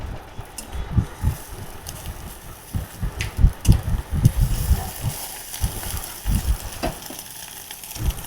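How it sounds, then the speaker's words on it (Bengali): Eggs crackling and sizzling in a hot pan, with irregular pops and spatters rising over a steady frying hiss, close by. "দেখো ডিমগুলো এইভাবে ভেজে ভেজে রেখে দেবো আমি"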